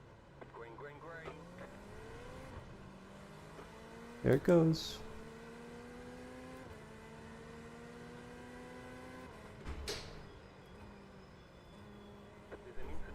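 Race car engines rise in pitch one after another as a pack accelerates away at the green flag, whining up through the gears near and far, with short bursts of talk over the engines.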